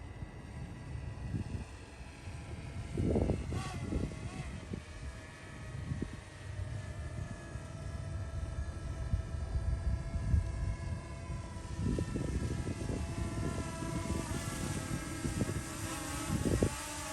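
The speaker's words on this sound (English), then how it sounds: "go ahead and bring her home and let's land that aircraft" A propeller aircraft on approach to land drones steadily with a sustained tonal engine hum, joined by intermittent low rumbling gusts and bumps that swell and fade.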